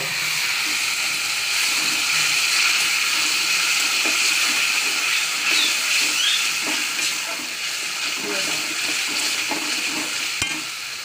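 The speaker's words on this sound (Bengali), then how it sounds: "দেখো এই মাংসের জলটা দেবো এর মধ্যে একটু করে দেবো" Meat stock poured into a pan of frying spice masala for mutton kosha sets off a loud, continuous sizzle and hiss that carries steadily throughout, with occasional stirring scrapes.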